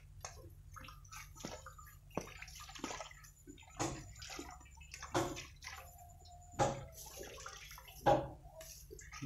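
Hands are washed with water, probably outdoors during milking of a Jersey cow: irregular splashes and trickles come in bursts, with several louder sloshes and faint chirping in the background.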